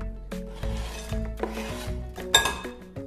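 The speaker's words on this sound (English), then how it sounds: "these are larger, so I'm gonna go ahead and chop these up" Knife chopping large dark chocolate chips on a cutting board for protein bars, a series of irregular close knocks and scraping rubs, with one louder clatter near the end.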